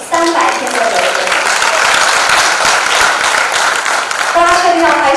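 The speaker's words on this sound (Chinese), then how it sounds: "大家确定要拍手吗？" Steady, loud applause from the audience at a live talk fills the whole stretch, with a voice briefly audible over the clapping at the start and near the end.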